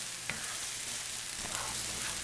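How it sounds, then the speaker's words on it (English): Sambal ingredients sauté in a pan over heat, giving off a continuous, close hiss of frying with bright crackling pops and a few soft scraping stirs. No voices. "I'm going to saute these for about 10 minutes, get it to a nice reddish brown"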